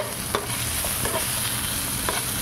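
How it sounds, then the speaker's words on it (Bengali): Potatoes fry in hot oil for a chhana curry, giving a steady close sizzle with a few light stirring scrapes and clicks and no voices. "আমাদের আলুগুলো ভাজা হচ্ছে"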